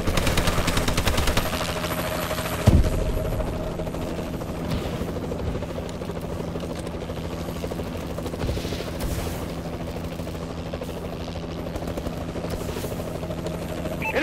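An enemy Warbird gunship flies overhead in the Call of Duty: Advanced Warfare multiplayer match on the Detroit map, a continuous rotor-like drone under distant gunfire, with a sharp bang early on.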